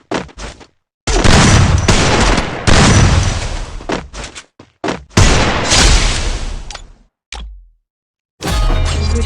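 Gunfire in the Free Fire video game, loud close bursts of rapid shots in several long volleys broken by short gaps, with no talk.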